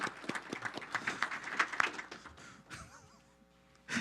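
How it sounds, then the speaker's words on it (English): A small crowd at a city council meeting claps briefly, scattered distinct claps over about two seconds that fade into a quiet room hum with a faint voice. "let's give him a round of applause, too, for backing her up"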